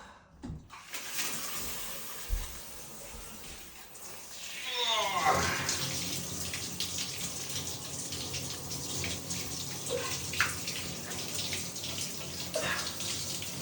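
A cold tap runs steadily in a sink as freezing water is splashed onto the neck, a close, continuous rushing stream broken by a few sharper splashes over several seconds.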